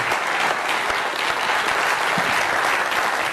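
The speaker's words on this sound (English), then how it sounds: "let's give them another round of applause here" Audience applause at an entrepreneurship education panel in New York, a steady, dense wash of clapping that runs continuously for the whole stretch without letup.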